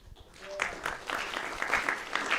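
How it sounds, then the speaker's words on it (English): Audience at a university debate on religion, politics and culture breaks into applause, a crisp build of many hands clapping that rises and holds steady, with a faint voice at the start. "Give a round of applause for him."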